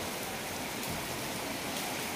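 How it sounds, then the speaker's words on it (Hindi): Heavy rain pours down on a cold morning, a dense, steady hiss of downpour that stays loud and even throughout with no voices over it. "कितनी तेज़ बारिश हो रही है"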